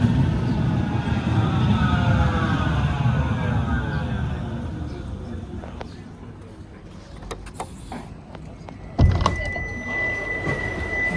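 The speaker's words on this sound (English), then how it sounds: "Tram is due in 3 minutes." A tram pulls into Deansgate station in Manchester with a heavy rumble and rising, drawn-out wheel squeals, followed by a sharp clunk and a thin whine as it settles.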